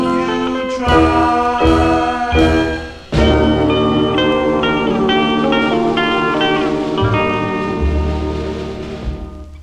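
Doo-wop record playing from vinyl: a full, loud group sound with harmonies and steady backing, a brief dip partway through, then the song carries on.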